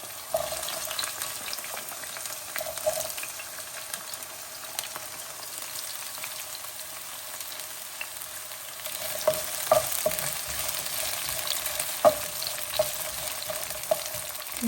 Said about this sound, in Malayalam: എണ്ണ ചൂടായിട്ടുണ്ട്. ഞാൻ അതിലേക്ക് ഒനിയൻ ഇട്ട് കൊടുക്കുകയാണ്.